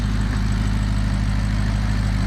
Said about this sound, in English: we got us a beautiful sounding Ferrari V8 engine